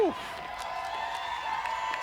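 Dense parade crowd on Beale Street in Memphis during the AutoZone Liberty Bowl Parade, a continuous wash of cheering and hubbub with scattered whistles and whoops, a voice audible over it.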